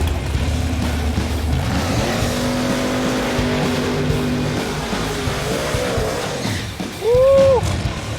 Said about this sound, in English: All the cars are going fast. They're all hooking hard. Everything in this side, it's sliding all over the place.